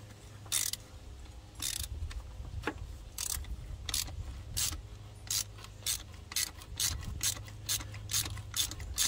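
A ratchet clicks in repeated bursts, fairly close, while loosening a crusty fuel injector bolt on the hot side of a Jeep WJ 4.0 engine, with a low steady hum underneath.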